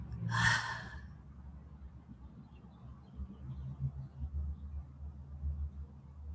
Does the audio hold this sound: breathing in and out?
yes